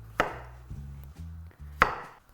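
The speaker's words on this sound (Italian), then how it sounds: "tagliare le zucchine e poi andare a friggere. Uso una mandolina perché vanno fatte il più fini possibile." Zucchini sliced thin on a mandoline: two sharp close slicing strokes, each a bright scraping snap, with softer low thumps of handling between them in a quiet kitchen.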